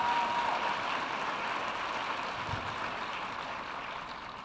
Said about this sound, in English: Let's give these wonderful North Carolina leader innovators a big round of applause